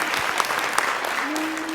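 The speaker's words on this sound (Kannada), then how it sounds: "ಎಲ್ಲರೂ ಜೋರಾಗಿ ಒಂದ್ಸಾರಿ ಚಪ್ಪಾಳೆ ಕೊಡಿ" Audience applause at a televised singing reality show, a steady wash of clapping with sharp individual claps standing out, while a voice speaks briefly under it.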